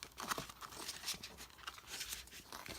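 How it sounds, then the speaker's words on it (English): Large tarot cards are drop shuffled, letting them fall from hand to hand, giving soft, quick papery riffles and flutters in close, quiet bursts. "I'm not really riffle shuffling them, because I'm not bending them, I'm just letting them fall"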